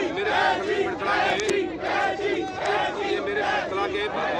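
A crowd at a political rally for an independent candidate chants together in a loud, steady rhythm, with regular rising and falling shouts and cheers repeating roughly every half second to one second.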